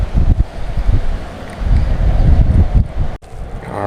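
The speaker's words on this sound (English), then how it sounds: "you can't even cast where you want to in this wind" Strong outdoor wind while bass fishing, a loud low rumble buffeting the microphone in uneven gusts, with no talking.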